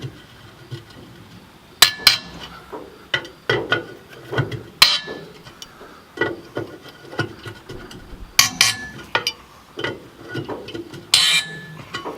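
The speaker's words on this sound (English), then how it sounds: "So what I like to do is just break these loose with the 4-way." Lug nuts on a wheel with a flat tire being broken loose with a four-way lug wrench, an irregular series of metallic clinks, scrapes and knocks, some sharp and close, with no talk.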